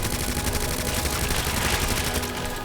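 Rapid automatic fire from an MQ-11 submachine gun during a boss fight in Resident Evil 2 Remake, a dense continuous burst of gunshots that stays loud throughout with no talking.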